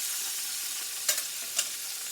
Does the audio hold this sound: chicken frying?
yes